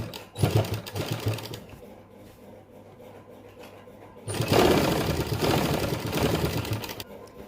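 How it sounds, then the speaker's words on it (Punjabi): A sewing machine stitches along fabric piping in rapid clattering runs, close and loud, with a short lull between two bursts. "ਪਾਈਪਿੰਗ ਦੇ ਨਾਲ ਨਾਲ ਸਲਾਈ ਲਾ ਰਹੇ ਆਪਾਂ"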